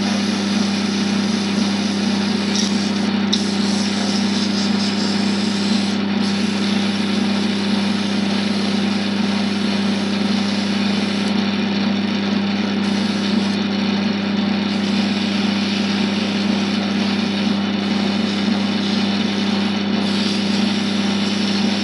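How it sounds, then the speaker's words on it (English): A wood lathe spins at its top speed of 2000 RPM, turning a pen, with a steady, unbroken motor hum and whir that stays loud and even throughout, with no talking. "I've got the lathe on top speed again. For this lathe it's 2000 RPM."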